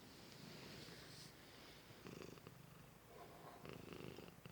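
A 20-year-old Manx cat purrs softly and steadily up close, a low continuous rumble with slight swells over a few seconds, no talking.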